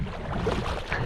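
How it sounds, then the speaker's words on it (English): A canoe being paddled into a headwind on a wilderness lake trip, with a steady wash of wind and water lapping against the hull, continuous and moderately loud with no voices. "he's paddling the canoe into a headwind"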